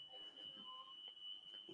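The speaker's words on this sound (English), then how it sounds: "My fire alarm's going off." A household fire alarm beeps faintly in the background as a thin, steady high-pitched tone running throughout, quiet and distant under a hushed room.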